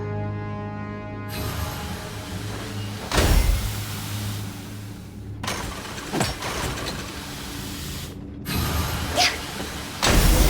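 A widget-processing machine runs in Genshin Impact, a mechanical whir and clunk with ratcheting, gear-like grinding. It swells and cuts out in several separate bursts, loud and close.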